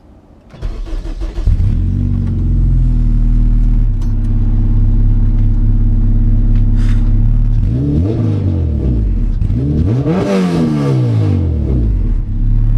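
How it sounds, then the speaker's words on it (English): A Honda CRX with a K20A engine and a straight-pipe resonator exhaust starts up, settles into a loud, rumbly idle, then revs sharply a couple of times, close to the microphone. "I have a shitty exhaust right now. It's essentially a 18-inch resonator, possibly with like 18 inches of pipe, so it's essentially a straight pipe"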